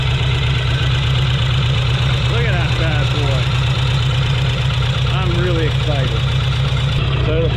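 A vintage 42-horsepower motorcycle engine runs at a steady, loud, close idle throughout, with a low pulsing throb, as someone talks over it.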